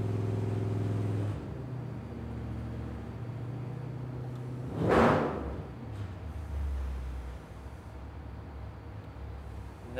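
A Smeding Performance 383 Extreme engine runs on a dyno under steady load, a constant low mechanical drone with a brief louder whoosh midway, no talking.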